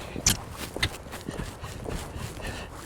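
Horse hooves cantering around an arena while the rider works on lead changes, a series of soft, uneven thuds at close range with no talking.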